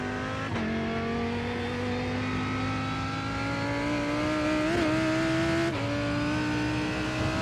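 Race cars, a Lamborghini and LMP2 prototypes, roar steadily through an IMSA sim race at Road Atlanta, with one loud sustained engine note climbing gradually through the gears and brief shift blips, close and continuous.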